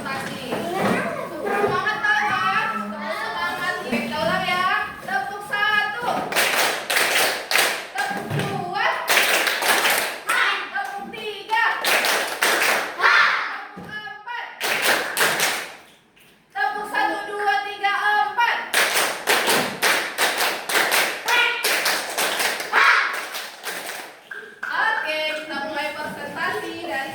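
Young pupils in an Indonesian classroom perform a rhythmic clapping routine led by their teacher, sharp bursts of synchronized claps alternating with children chanting along, repeated in several rounds with brief pauses between.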